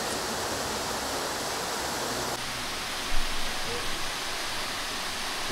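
Ring Waterfall at Tamhini Ghat, a broad steady roar of falling water heard close and loud throughout, with a brief faint knock partway through.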